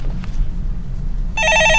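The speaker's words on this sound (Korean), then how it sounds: "네, 전화 받아보겠습니다." A telephone on a stock call-in show begins ringing near the end of the clip, one loud electronic ring burst after a stretch of quiet room hum.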